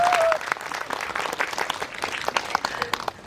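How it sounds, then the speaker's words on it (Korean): A cinema audience at a film talk event with the directors applauds warmly, with dense, continuous clapping from a large crowd that stays fairly even throughout, and a brief tone at the very start. "진짜 여러분에게 박수를 드립니다."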